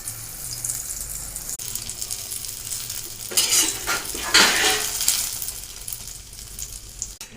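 A Mughlai paratha fries in oil in a pan, giving a steady sizzle with scraping and clinking of a utensil against the pan, growing louder and busier in the second half, with no speech.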